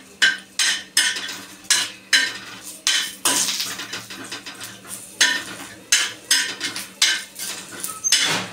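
Grated coconut being dry-roasted and stirred in a pan, a spatula scraping the metal in a steady run of sharp, close scrapes and clinks at roughly half-second intervals, with a faint sizzle underneath and no talking.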